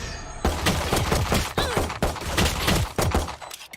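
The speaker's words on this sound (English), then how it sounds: "How many fucking shots does that gun take?" Rapid bursts of gunfire from a tactical shooter video game match, with repeated sharp loud shots in quick irregular volleys throughout and no talk.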